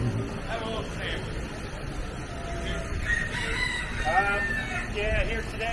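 A rooster crows on a busy street in Key West, Florida, its calls rising a few times above the steady murmur of passing crowds and traffic, moderately close and clear over the ambient din.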